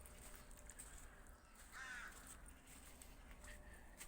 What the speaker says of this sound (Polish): Ćwierkają, ćwierkają od samego rana.